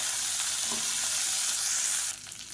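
Dried red chilies and whole small shallots frying in a pan: a loud, dense, continuous sizzle close up that drops off sharply near the end.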